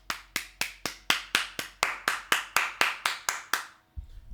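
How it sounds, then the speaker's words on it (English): A single person clapping, about fourteen sharp, evenly spaced claps close to the listener, then a brief low thump at the end, with no crowd joining in. "Again, I want to give an applause."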